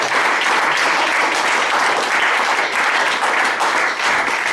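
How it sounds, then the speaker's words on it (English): A dinner audience gives a sustained round of applause, a dense and steady wash of many hands clapping at close range, with no talk over it. "a round of applause for Fraser."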